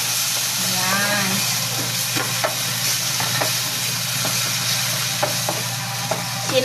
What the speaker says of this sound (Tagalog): Igigisa natin onion, and then isusunod natin yung kamatis.